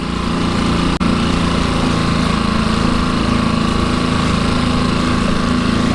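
A new outboard boat motor runs steadily during break-in at around three-quarter throttle, a constant droning engine hum that stays loud and even throughout with only a brief dip near the start.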